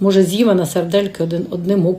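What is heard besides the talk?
No distinct noise like a dog, phone or traffic.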